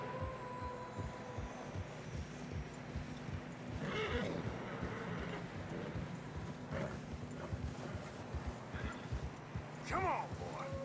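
Horses in deep snow in a mountain pass in Red Dead Redemption 2 snort and whinny, with muffled hoofsteps and wind; a couple of short neighs stand out over a steady low rumble, with speech in between.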